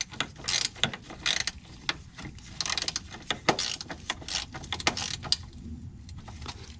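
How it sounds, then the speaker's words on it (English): A 10mm socket on a ratchet tightens the fuel filter bracket bolt on a Ford GT350, giving bursts of close, quick ratcheting clicks and small metallic mechanism noises with no talking. "use your 10mm socket and tighten it down"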